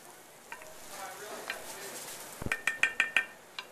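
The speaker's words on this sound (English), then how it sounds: "I use a wooden spoon because a wooden spoon, when you hit it against the side of the pan, the rice won't stick." Rice being stirred in oil with a wooden spoon for rice pilaf: soft scraping and faint sizzle, then a quick run of about six sharp, ringing taps of the spoon against the side of the pan, and one last knock.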